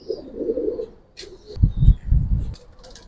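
A pair of black Bagha Giribaz pigeons coos close by, with a few soft low throaty coos in a short cluster after a quiet start, plus faint background chirps.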